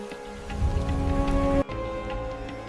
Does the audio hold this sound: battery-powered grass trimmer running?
no